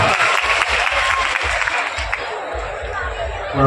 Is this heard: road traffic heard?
no